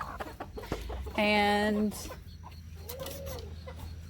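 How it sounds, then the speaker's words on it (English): Roosters and chickens on a poultry farm: one loud, close rooster crows once in a drawn-out harmonic call, with softer clucks and scattered fowl noises around it and a person speaking briefly. "We've been still trying to catch the rest of the roosters."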